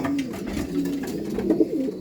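A racing pigeon in a loft coos softly and close, a low rolling murmur repeated a few times over two seconds.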